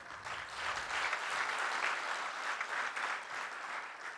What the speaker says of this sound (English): For the loudest applause.